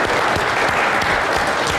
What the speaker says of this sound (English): That applause. I really appreciate it.